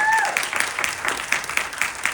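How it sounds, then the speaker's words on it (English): An audience at a mayoral candidate forum claps for a candidate being introduced, with scattered individual claps audible through a loose, modest round of applause. "Yes, you may applaud."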